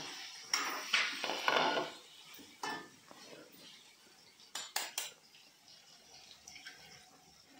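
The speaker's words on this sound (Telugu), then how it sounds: "ఇప్పుడు ఎగ్స్ కొట్టుకుందాం" Eggs are being cracked and beaten in a bowl for a brinjal-egg curry, giving irregular clinks and knocks of shell and utensil against a bowl, with soft, close kitchen handling noises in between.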